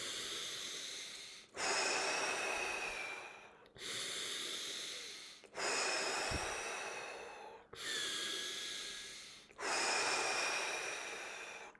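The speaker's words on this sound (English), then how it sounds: "5 deep breaths." Five deep, loud breaths in a Tummo breathing session, each a long rushing inhale that fades into a softer exhale, repeating steadily and close by with no talk.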